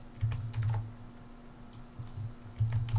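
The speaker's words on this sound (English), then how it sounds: "So let me type that in real quick." Computer keyboard typing as page margin values are entered into a Word document, a quick run of soft, close clicking keystrokes in short bursts with brief pauses.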